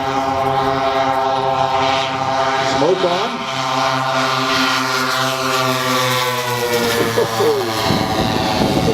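A large B-29 model aircraft's piston engines drone steadily and loudly through a stall turn and roll at an air show, the pitch wavering as it manoeuvres, with an announcer talking over it.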